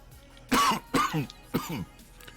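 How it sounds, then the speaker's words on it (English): Three harsh, separate coughs in a row, close and fairly loud, with short pauses between them. "I'm still trying to shake this cough."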